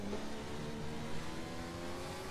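A Ferrari F14T Formula car engine in the Assetto Corsa racing game holds a steady, loud, high-pitched drone with no speech, the pitch barely shifting over a couple of seconds.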